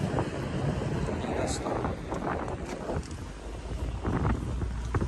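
Strong typhoon wind from Typhoon Kristine on a bayside promenade in Aroroy, Masbate roars steadily and buffets the microphone, with someone speaking over the constant rush.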